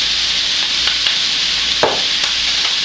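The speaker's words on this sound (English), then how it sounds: "we're going to fry that up a little bit" Sausage and sauerkraut frying in a pan, a steady loud sizzle with a few quick stirring scrapes and clicks of the utensil against the pan, no voices.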